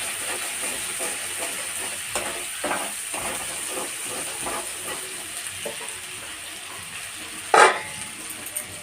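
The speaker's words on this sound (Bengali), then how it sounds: "এই তেলের উপরে আমি প্রথমে আদা রসুন বাটা দিচ্ছি" Ginger garlic paste frying in hot oil, a steady close hiss and sizzle with light stirring taps and one brief sharp clink near the end.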